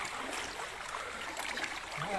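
Floodwater rushing into a house, a steady broadband watery wash like a fast stream, continuous and fairly close with no clear pauses.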